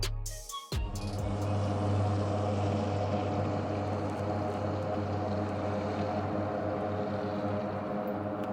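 A small plane flying in to a fishing trip in Canada: a loud, steady propeller engine drone with strong low harmonics fills the cabin continuously after a brief sharp knock at the start, with no talking.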